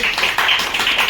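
Audience clapping at a talk on storytelling and publishing, a brief steady burst of many hands close by, with no speech over it.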